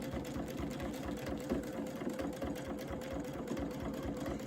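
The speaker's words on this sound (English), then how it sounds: "do a repeat of this serpentine type stitch" A sewing machine runs steadily through a serpentine stitch on a bucket hat, its rapid even needle chatter sounding close but fairly quiet.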